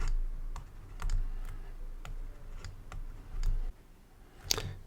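Keys tapped on a computer keyboard in irregular bursts of clicks, close and fairly quiet, while menu items for an algorithm lesson are typed out, with no talking.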